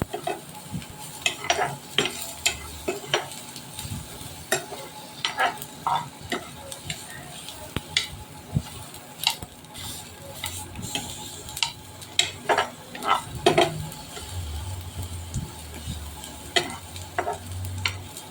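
Toasted bread gravy simmering slowly in a pan, with a soft steady sizzle broken by frequent stirring scrapes and clinks of a utensil against the cookware, close and moderately loud.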